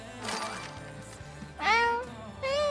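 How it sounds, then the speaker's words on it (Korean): A cat meows twice, close and clear, the second call longer and rising, after a brief sharp noise at the start. "저는 고양이 소리 듣겠어요"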